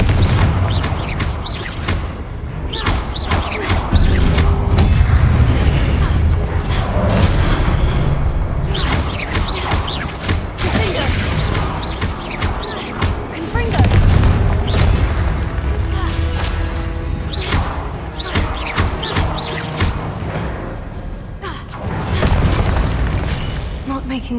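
Confringo spell blasts in the video game Hogwarts Legacy, loud repeated booms and crashing bursts over a dense bed of game sound, with speech heard at times.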